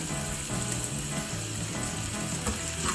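A sprig of curry leaves sizzling and crackling steadily in hot oil during sautéing for a drumstick and egg thoran, with a constant frying hiss and faint stirring clicks, close and with no one speaking.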